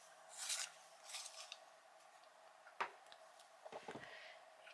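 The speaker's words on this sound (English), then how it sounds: "I've just got to give it a sharpen." Coloured pencil being sharpened, a few faint short scraping and rasping bursts of the blade shaving wood, close and quiet, followed by small clicks and handling knocks.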